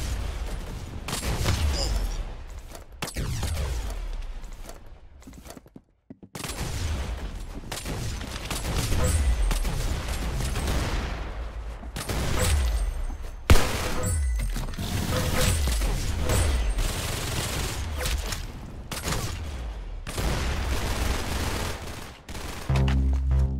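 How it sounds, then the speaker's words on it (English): Rapid gunfire from the Roblox shooter Arsenal, with bursts of automatic fire and single shots cracking almost constantly across a dense, loud game mix, briefly cutting out once before resuming. "Very good shooting."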